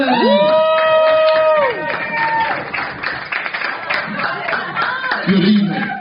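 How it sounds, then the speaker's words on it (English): A comedy club audience at the Guildhall applauds and cheers for the next act, with loud clapping and whoops swelling and then fading, plus a few voices calling out over the crowd. "Can you please clap your hands for Mr."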